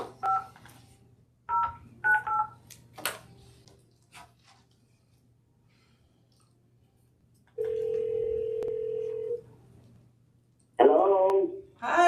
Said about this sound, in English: We have another testifier, Calais, who I will try contacting by phone at this time.